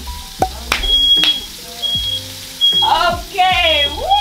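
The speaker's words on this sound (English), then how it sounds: "And I just set off the fire alarm." Several high-pitched electronic smoke alarm beeps sound amid clattering kitchen noise during cooking, with a person talking and exclaiming over them.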